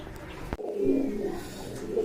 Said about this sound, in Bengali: দুইটাই তো দেখা যাচ্ছে ডাকতেছে